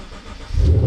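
Lexus RC F engine starting: a brief low crank that swells into a loud, close rumble as the motor catches and settles, with no voices present.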